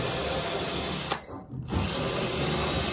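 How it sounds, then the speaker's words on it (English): A power drill bores holes in a trash can cover, its loud continuous whine cutting out briefly for about half a second before spinning back up at full speed. "Put a drill in my hand."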